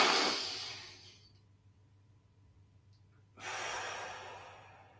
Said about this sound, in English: Okay, breathing in.